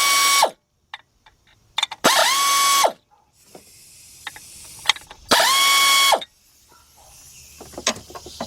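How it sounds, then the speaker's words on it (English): Air ratchet spinning pulley bolts loose on a Kia Sorento/Hyundai Santa Fe V6 during a timing belt and water pump job: two long, loud whirring bursts with quieter clicks and clatter of parts between, no talk. "Get my air ratchet."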